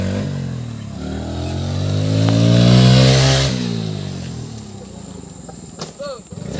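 A motorcycle revs up during a stunt attempt, its engine note climbing steadily to a loud peak then dropping away, with a voice speaking faintly near the end.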